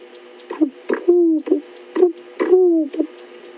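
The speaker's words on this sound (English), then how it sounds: "I can hear a ringneck dove calling in the distance." A ring-necked dove calling at sunset on a safari drive, several soft, low cooing phrases repeating in a steady rhythm, clear against a quiet background.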